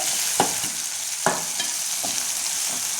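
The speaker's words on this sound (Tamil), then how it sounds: "நல்லா வதக்கணும்." Tomatoes sautéing in a pan with a steady loud sizzle, broken by a few sharp scrapes of a spatula.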